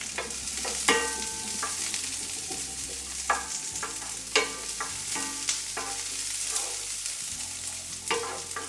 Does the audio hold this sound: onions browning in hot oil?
yes